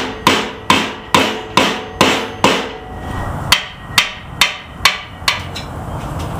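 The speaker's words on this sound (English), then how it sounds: "I just used a screwdriver and a hammer with this" A hammer drives a screwdriver to break a ball joint free on a front upper A-arm: about eleven sharp metallic blows, six in quick steady succession, a short pause, then five more, close and loud.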